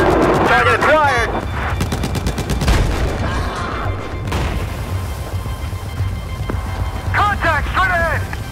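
Tank cannon blasts from the video game Battlefield 4, loud heavy booms with crackling gunfire and explosions in a busy battle mix, voice callouts heard over the combat.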